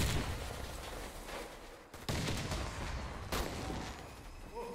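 Gunfire in the shooter Warface on a Christmas map, bursts of automatic fire and heavy blasts in quick succession, loud and dense, with brief sharp breaks between volleys.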